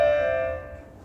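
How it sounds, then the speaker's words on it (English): A sustained microtonal major tetrad built on harmonics 8, 9, 10 and 11 rings as one steady chord, starting at once and slowly fading over about a second, with no talk. "what I call the major tetrad, because the perfect major chord contains 4 tones"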